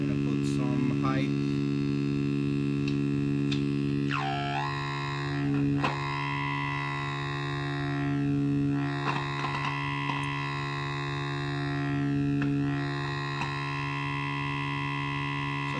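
A Moog 3-band parametric EQ sweeps its frequency, width and height over a humming, buzzy tone, producing repeated swooping filter glides over a steady drone with no talking.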